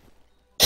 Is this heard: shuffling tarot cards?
no